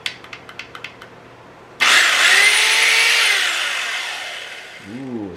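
Eastwood mini metal saw started up and running free: a few quiet clicks, then the motor abruptly spins up into a loud, steady high whir that slowly eases off before a short wavering dip near the end.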